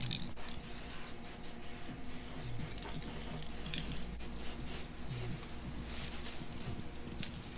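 An aerosol can of 3D camo spray paint hisses steadily as a base coat goes onto a lawn mower, a continuous close spray with faint clicks and rattles.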